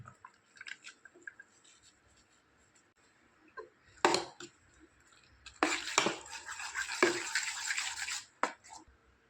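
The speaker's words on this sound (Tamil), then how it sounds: "க்ளம்ஸ் இல்லாமல் நல்லா பீட் பண்ணிக்கலாம்" White pumpkin dosa batter mixed with chopped onions is beaten by hand in a bowl. Quiet scraping and slapping strokes come in irregular bursts, louder and denser toward the end.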